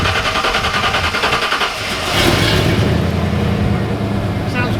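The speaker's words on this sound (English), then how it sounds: "That's a nice sounding exhaust." A Divco milk truck fitted with a Ford V8 cranks and fires up, settling into a loud, steady exhaust rumble close by, with voices talking over it.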